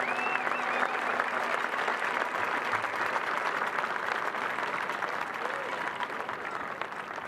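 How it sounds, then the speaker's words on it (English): Sustained applause from a crowd at a charity moment during an all-star football classic event, dense steady clapping filling the full stretch with faint voices and cheers mixed underneath. "how about a round of applause for Tanner Cook?"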